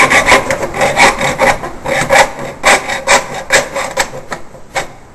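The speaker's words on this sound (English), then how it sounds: "now we're going to cut down on the angle of the bead, noticing that the hacksaw is following the cut" Hacksaw cutting at an angle through an external quad spouting bead, close and loud with steady back-and-forth rasping strokes, about two per second, with no talking.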